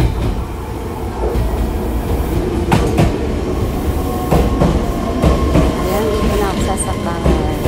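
Passenger train ride toward Nagoya, Japan, with a steady rolling rumble inside the carriage, periodic rail clicks and brief squeaks, and a faint background murmur.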